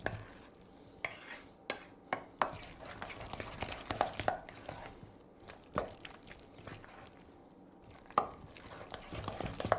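A spoon stirs and mashes a softened cream cheese and bacon stuffing for mushrooms in a bowl, giving soft, irregular scraping and clinking strokes that are fairly faint, with quiet gaps between them.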